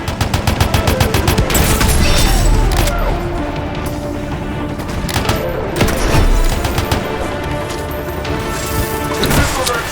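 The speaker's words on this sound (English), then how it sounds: "The crystals are exploding!" Crystals explode in the Anthem video game as loud, rapid bursts of blasts and crackling booms, a dense barrage with brief lulls under layered game sounds.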